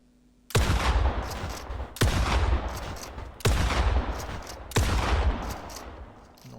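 SMG fire in a video game, four loud sustained bursts of rapid automatic shots about 1.5 seconds apart, close and continuous.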